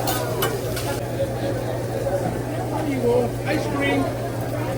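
Fried rice sizzles and hisses on a hibachi grill at a restaurant dinner. A constant low hum sits underneath, with spatula scrapes and occasional clinks, and people talk nearby.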